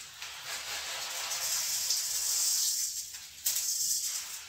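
Black mustard seeds sizzle in hot oil for a tempering, giving a loud, close, steady hiss that swells gradually and flares sharply once near the end.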